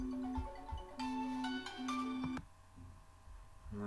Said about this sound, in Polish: O, dzwonią.